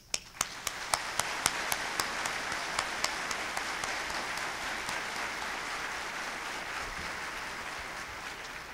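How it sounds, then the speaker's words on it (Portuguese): Audience at an international seminar applauds public managers, a dense, sustained round of clapping with a few sharp nearby claps standing out at the start, steady throughout. "Agora eu gostaria de solicitar à plateia uma calorosa salva de palmas"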